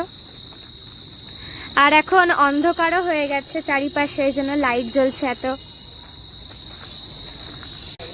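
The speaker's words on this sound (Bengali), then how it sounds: "আর খুব জোরে ঝিঝি পোকা ডাকছে" Steady, shrill cricket chirping rings loudly throughout near an old palace during Durga Puja, while a person talks over it for a few seconds in the middle.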